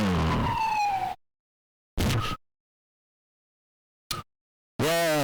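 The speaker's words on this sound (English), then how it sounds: "The sirens are sounding." Wailing emergency sirens sound in separate loud bursts, a long one, a short one, a brief blip and another starting, with silent gaps between them and no talking.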